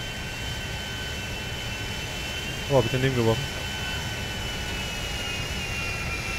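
Jet aircraft engine in Grand Theft Auto 5, a steady distant roar under the game audio, with a brief clatter and someone talking over it.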